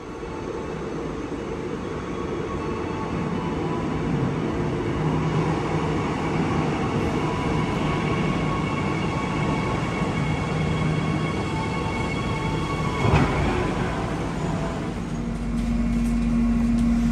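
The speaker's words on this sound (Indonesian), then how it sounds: "Ini aku mau naik kereta bandara menuju ke Bandara Soekarno-Hatta." Steady rumble of an airport rail link train to Soekarno-Hatta Airport riding along the rails, a continuous rolling drone with a brief clunk near the end.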